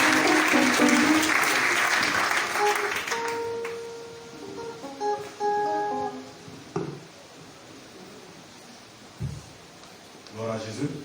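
A church congregation bursts into loud applause that fades after about three seconds, followed by scattered voices, rustling and shuffling in the hall.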